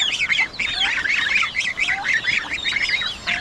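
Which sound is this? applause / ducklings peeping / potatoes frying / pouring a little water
ducklings peeping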